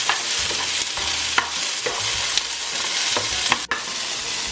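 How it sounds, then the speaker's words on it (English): Fresh corn kernels cut from the cob sauté with vegetables in a pan, hissing steadily and loudly at close range. Several sharp scrapes and clacks come from stirring. "I'll saute for another couple minutes"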